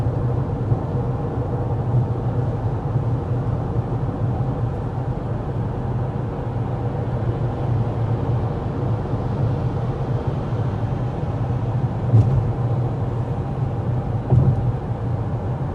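Cabin of a 2026 Toyota Crown Platinum cruising at 55 mph with the fan on speed 1: a steady, subdued broadband road and wind hum, even and continuous, with a couple of faint brief clicks and no voices.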